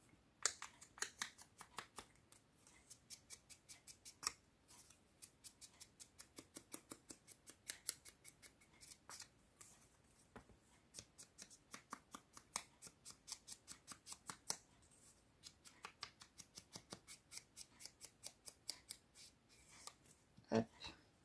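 Scissors cutting paper while trimming excess edges during a scrapbooking project, a long series of quiet, crisp snips in an uneven rhythm, close and isolated with brief pauses.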